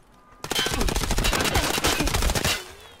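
Sustained automatic gunfire from a weapon fitted with a 50-round drum magazine in Escape From Tarkov, one loud continuous rapid burst of about two seconds starting abruptly after a quiet moment, then cutting off.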